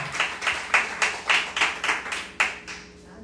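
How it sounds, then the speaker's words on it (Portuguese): A church congregation claps in praise to the Lord during a service, about a dozen rhythmic clap bursts at a steady beat with no talking, tailing off into near silence at the end. "Aplauda o Senhor com o seu melhor."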